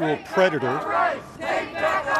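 A protest crowd shouts in unison against Trump at a street demonstration, loud rhythmic chanted voices rising and falling in bursts, close and dense over roughly two seconds.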